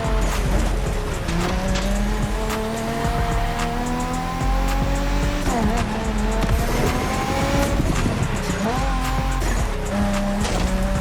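Nissan GT-R with a heavy body kit racing in The Crew Motorfest, its engine roaring loud and steady throughout with repeated tire squeals and gear-change sweeps, backed by game music.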